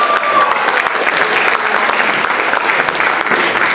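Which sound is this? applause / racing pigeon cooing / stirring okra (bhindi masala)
applause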